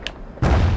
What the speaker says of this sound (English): Press B to throw grenades.